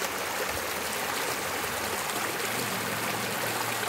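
River water flowing steadily, a soft continuous rushing and trickling wash with no pauses, moderately close and fairly quiet.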